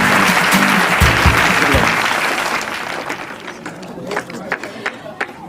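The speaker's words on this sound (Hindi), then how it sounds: "जोरदार ताली हो जाए।" Applause from a studio audience on the quiz show Kaun Banega Champion: loud, dense clapping that peaks early, then thins out into scattered claps as a voice comes in toward the end.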